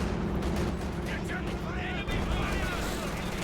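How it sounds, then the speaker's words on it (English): Bofors anti-aircraft gun firing in the WWII strategy game Company of Heroes 2, loud dense battle noise with booming shots and explosions over continuous din, someone commentating throughout. "Bofors get a good hit there on top of the Kamazar"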